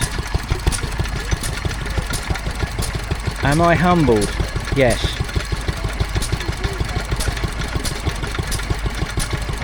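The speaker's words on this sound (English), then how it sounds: "So this was actually one of the last Wolseley stationary engines" A late Wolseley stationary engine, dating from around the 1970s, chugs at a steady, regular beat at a transport festival, with its rhythmic exhaust pulses continuing beneath a man's brief speech.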